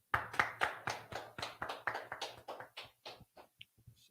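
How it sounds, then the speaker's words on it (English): A small group at a Friday night Hebrew class in Durham claps in unison, a steady brisk rhythm of sharp close hand claps that slows and thins out after about four seconds. "clap it up"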